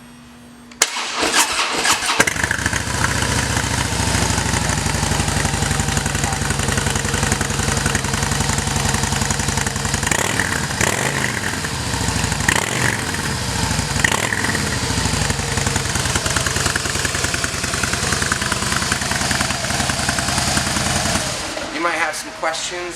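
A 2015 Harley-Davidson Softail Deluxe motorcycle fires up at a dealership and settles into a loud, steady, close rumbling idle for about twenty seconds before shutting off.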